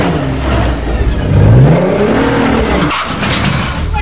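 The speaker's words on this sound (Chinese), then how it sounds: "画面上的保时捷修理车发出咆哮" A Porsche shooting brake with a badly bent right front wheel revs hard as it is forced into a garage. The engine roar is loud and close, rising in pitch, with a squeal-like tire whine.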